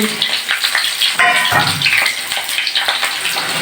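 Papaya pieces dropped into chicken frying in a pan, bursting into loud, steady sizzling and hiss with some stirring scrapes.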